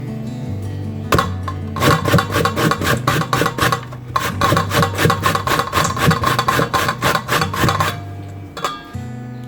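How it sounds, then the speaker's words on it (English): A zucchini is grated by hand against a grater, steady rhythmic rasping strokes in two quick bursts with a short pause between, close and loud with no talk. "I'll be using one zucchini and I'm going to grate that"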